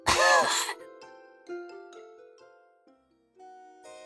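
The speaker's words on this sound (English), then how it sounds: "She coughed." A single sharp cough from a woman, close and loud, followed by soft sparkling music that fades through the rest of the moment.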